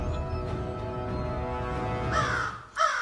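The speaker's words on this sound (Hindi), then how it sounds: "एक कौवा? ये यहाँ कैसे आया?" A crow caws twice near the end, two loud harsh calls rising over a steady background hum and tonal drone.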